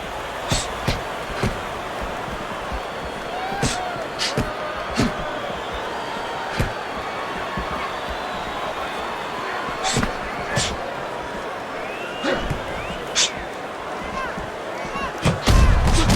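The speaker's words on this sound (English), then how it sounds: "Solid counter punch by Briggs." Sharp thuds of punches land at irregular intervals over a steady crowd roar, some blows striking in quick pairs, with a heavier flurry near the end.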